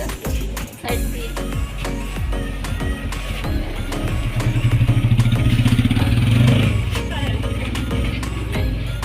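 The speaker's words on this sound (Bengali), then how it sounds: "আস্তে আস্তে আসে মোটর সাইকেলটা। যেতে দাও আস্তে আস্তে সাইড দিয়ে।" A motorcycle rolls past slowly nearby, its engine a low chugging rumble that builds to a louder drone midway and then eases off, with some clattering at the start.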